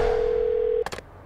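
A telephone dial tone holds a single steady pitch for under a second, then cuts off, followed by a couple of brief clicks.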